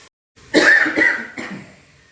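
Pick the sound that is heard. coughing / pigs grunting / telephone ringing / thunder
coughing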